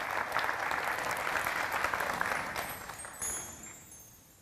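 Sustained audience applause at the opening day of a five-day theatre festival, a dense wash of clapping that holds steady for several seconds and then fades.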